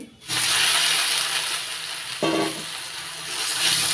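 Jujubes (kul) are dropped into hot spiced oil and start a loud, steady, hissing sizzle that carries on throughout, with a brief clatter partway through.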